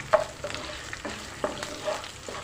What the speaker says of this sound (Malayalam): ഇപ്പം നമ്മുടെ ചുവന്നുള്ളിയൊക്കെ ഈ വെളിച്ചെണ്ണയിൽ കിടന്ന് മുരിയുമ്പോൾ ഒരു നല്ലൊരു ഫ്ലേവർ കിട്ടും